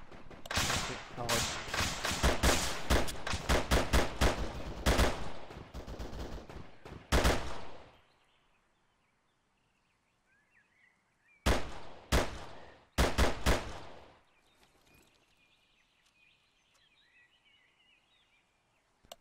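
Bursts of close automatic gunfire in the combat game ArmA 3, dense and rapid, break off into near silence and then return as a few short sharp volleys.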